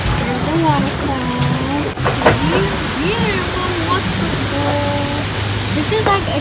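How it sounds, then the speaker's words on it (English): Waterfall at a kids' theme park, a steady broadband rush of falling water in the background while people talk over it. "There's the waterfall."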